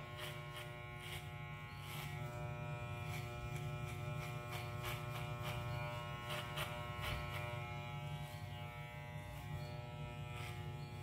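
Electric hair clipper fitted with a number 3 guard cuts the side of a head, giving a steady close buzz with harmonic hum and brief clicks and scrapes as it moves through the hair.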